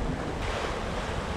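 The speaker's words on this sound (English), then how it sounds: "Waves are so close together." Ocean surf and wind roar around a Hallberg-Rassy 54 sailing yacht in short, steep waves off the cliffs of Cayman Brac, a steady, dense wash with constant wind buffeting on the microphone and no voices.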